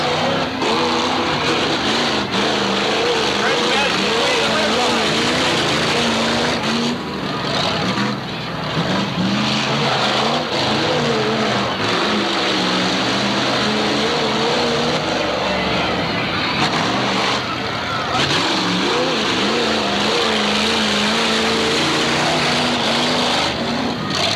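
Demolition derby cars at the Moses Lake demo derby pull away together at the start of a five-lap race, a loud continuous rumble of several engines revving and roaring close by throughout, with a faint voice underneath.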